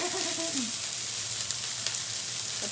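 Mince pie filling of seasoned meat bubbling and sizzling in a hot pan, a steady close hiss with faint crackles, briefly under a few quiet words at the start.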